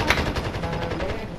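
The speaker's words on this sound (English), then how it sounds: "I hear gunshots" Rapid bursts of automatic gunfire in a video game rattle in a fast, even rhythm, loud and continuous with a slightly processed, game-like quality.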